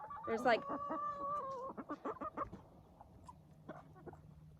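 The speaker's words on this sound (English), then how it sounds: "there's all kinds of different breeds of chickens in here" Chickens of mixed breeds, including naked necks, cluck and call up close in a series of short, uneven bursts, with one drawn-out squawk near the start before the sounds settle into quieter clucks.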